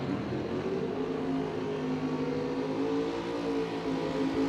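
Drag racing cars, an Oldsmobile and a Pontiac, roar at a steady, sustained pitch from a distance, a continuous layered engine drone without pauses.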